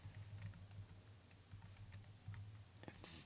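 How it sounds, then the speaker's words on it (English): Fingers tap on a computer keyboard in quick, uneven bursts of light clicks, quiet and close against a faint low hum, with no one speaking. "Sorry about all the typing noise."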